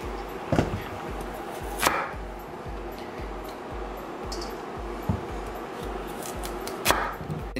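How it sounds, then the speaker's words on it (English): A knife cuts potatoes in half on a cutting board, with a series of sharp, separate chops landing every second or two over a low kitchen hum. "I'm gonna just cut these potatoes. I'm gonna do them in half, that way they cook faster."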